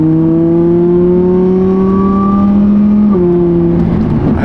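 A supercharged car on its stock pulley and 93 octane fuel revs loud and close, its engine climbing in a steady rising whine before shifting pitch and holding, with no talking over it.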